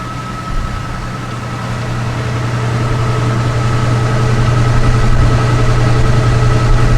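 A steady mechanical whirr with a low drone that slowly builds in loudness, a Dynatrak washing machine on its spin cycle, with no voices.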